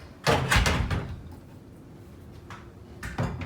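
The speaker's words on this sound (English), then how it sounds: "so let's shut the closet doors" A couple of quick wooden knocks and a thud as closet doors in a Disney Polynesian Resort hotel room are pushed closed, then a quiet room, and another short bump near the end.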